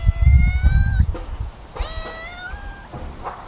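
A cat meows twice, loud and close, in a garden allotment on a golden autumn day, with rustling and handling noise underneath the first call.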